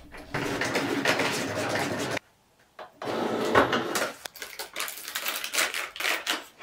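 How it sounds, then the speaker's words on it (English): A Cricut Maker 3 cutting machine working on white vinyl, giving a busy, close mechanical whirring and rapid clicking that stops briefly midway, then resumes. "I just love to capture the moment when the Cricut Maker 3 works"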